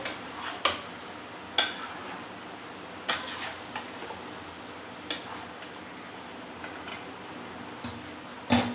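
Mutton is stirred and fried in a pot, with a sizzling background broken by sharp metal clinks of a spoon against the pot at roughly one- to two-second intervals.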